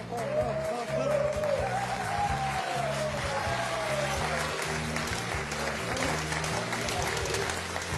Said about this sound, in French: Très applaudi par toute la salle.